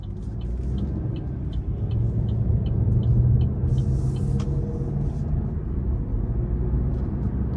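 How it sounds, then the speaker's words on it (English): 2025 Buick Envista Avenir with a 1.2 turbo three-cylinder engine, heard from inside as a steady low engine drone and road rumble while accelerating, with no talk. "you should be pleasantly surprised by how much power this does have when you put your foot in it"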